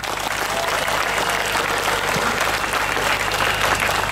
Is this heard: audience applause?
yes